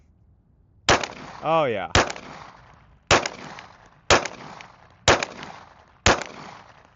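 Six sharp outdoor gunshots from a gun fitted with an OSight XR red dot optic set to a 2 MOA dot, fired at a distant target, evenly spaced about a second apart, loud and close, with a brief spoken remark.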